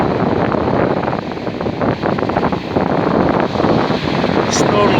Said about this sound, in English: Look at them waves.